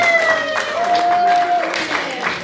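Guests at a surprise sixtieth birthday party clap for a man amid a lively room, with brief bursts of clapping under sustained tones and crowd noise.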